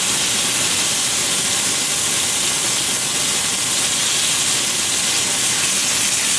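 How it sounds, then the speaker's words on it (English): Butter sizzling in a hot pan while it is spooned over food to baste it, a steady dense hiss and crackle that carries evenly throughout without talk. "We're gonna add some butter. Use the butter to baste it."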